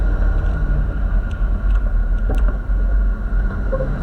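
A vehicle driving fast up a hill toward a driveway, carrying fuel in the back: a loud, close, continuous engine and road rumble with a few rattles, alone without talk.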